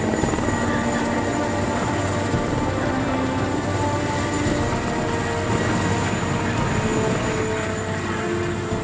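Rescue helicopter airlifting crash survivors off a mountainside, its steady rotor and turbine drone loud and continuous throughout, with no speech.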